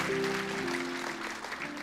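Audience applause breaks out during a church sermon, moderately loud and thinning toward the end, with a sustained tone lingering underneath.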